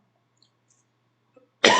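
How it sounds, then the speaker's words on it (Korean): A single sharp cough bursts out near the end after near silence, close and fairly loud. "아, 죄송합니다. 기침 때문에."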